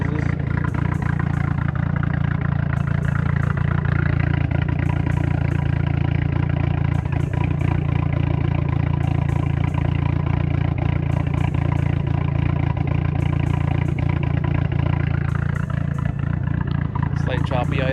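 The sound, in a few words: MK4 VW Jetta wagon big turbo 8V engine idling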